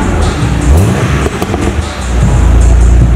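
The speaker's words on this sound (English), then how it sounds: "Wait, that's a little burble." BMW E92 exhaust burbling on a cold start, a close, steady low rumble with a brief uneven dip partway through before settling back to a heavier idle drone.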